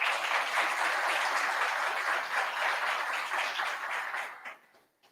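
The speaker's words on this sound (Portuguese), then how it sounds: "eu vou pedir para a audiência fazer um barulho, fazer algumas palmas" An audience claps on request, producing a steady burst of many hands applauding that fades away over the last second into near silence.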